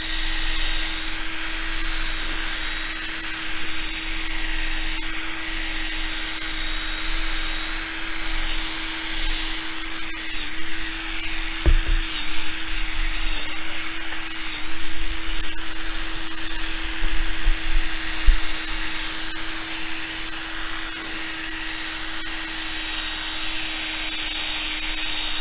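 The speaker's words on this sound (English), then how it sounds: "Now we're buffing those deeper scratches out that first abrasive pad created in the" A polishing disc buffs deep scratches out of a BMW K1200R windscreen, giving a steady, loud, continuous power-tool whine and hum throughout, with a few brief knocks near the middle.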